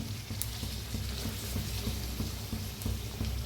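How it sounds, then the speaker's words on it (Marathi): Bhatura deep-frying in hot oil makes a steady, close, dense crackling sizzle that runs unbroken from start to finish, with small pops scattered through it and no talking. "छान एक साईड तळून घेऊया. फिरवून तळूया."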